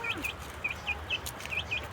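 A hen clucks after laying an egg, giving a string of short, bright, regular calls at moderate distance over faint background noise.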